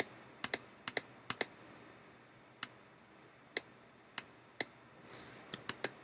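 Computer keyboard and mouse clicks while working in GIMP, sharp isolated clicks at irregular intervals, some in quick pairs and a cluster of three near the end, close and crisp over a quiet room.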